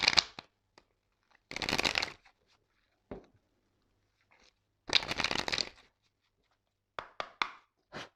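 A tarot deck is cut and shuffled by hand: a few soft riffling and slapping bursts with quiet gaps, near and fairly faint.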